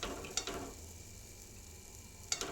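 Moong dal vadas frying in oil, a faint, quiet sizzle with a couple of brief clinks from a utensil near the start and end.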